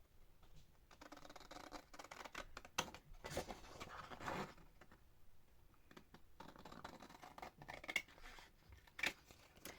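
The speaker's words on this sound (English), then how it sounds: "Now I'm using these Tim Holtz scissors" Tim Holtz scissors snip through paper in a quiet craft setting, a string of soft, irregular crisp cuts and rustles at close range.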